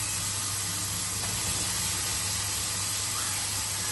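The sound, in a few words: grated carrots being sautéed in a pan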